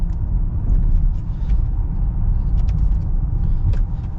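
A 2025 Honda Ridgeline HPD with a V6 engine drives along, its steady low rumble and road noise filling the cabin continuously, with faint small clicks and rattles above.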